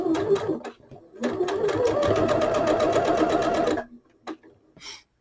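A sewing machine stitches steadily over thin clover pins, a fast even mechanical whirr running for a few seconds after brief starts, then stopping with a few small clicks.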